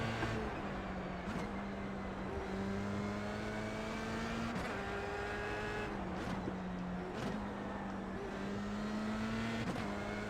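Race cars in the video game iRacing drone steadily with engine pitch climbing through gears and dropping at each shift, several cars close together, loud and continuous with no talking.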